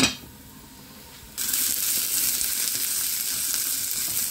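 Carp fish curry sizzles steadily in a hot pan, with a sudden loud burst of frying partway through as water is added to the fish, then a sustained hiss to the end, close and alone without voices.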